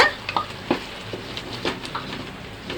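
Ginger garlic paste frying in a pan while being stirred, a crackling sizzle with repeated scraping strokes of the spoon, close and moderately loud, with no voices.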